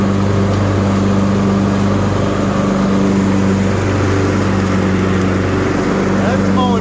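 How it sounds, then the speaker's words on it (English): A Husqvarna lawn tractor runs steadily on a mowing test run after repair, its engine droning loud and even throughout with a constant low hum and broadband roar, close by. "I'll go ahead and put this chute down and we'll give it a test run here."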